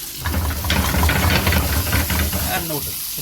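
Fresh sea fish fries in a pan, giving a close, steady hiss and sizzle with bubbling crackle throughout, and a voice murmurs briefly under it.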